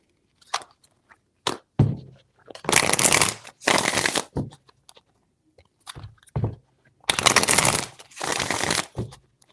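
Tarot cards riffle-shuffled in several quick bursts, close and crisp, with two longer runs of shuffling separated by soft taps and handling noises.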